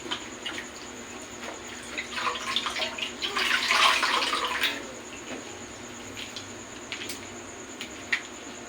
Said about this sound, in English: exposing the forearm of the patient, and then wash it with soap and water